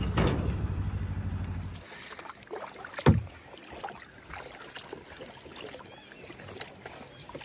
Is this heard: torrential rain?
no